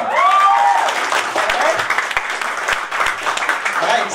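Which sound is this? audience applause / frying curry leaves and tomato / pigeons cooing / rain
audience applause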